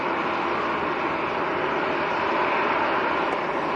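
Airliner, a British Airways jet, rotating and taking off at Manchester Airport, a loud, steady broadband engine roar filling the whole stretch without breaks, heard from a distance with no talking.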